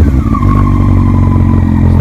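A Yamaha R6 motorcycle fitted with a Scorpion muffler, started cold and idling close by with a loud, steady rumbling engine note and a slight rise in pitch, with no talking.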